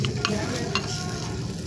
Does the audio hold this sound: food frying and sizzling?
yes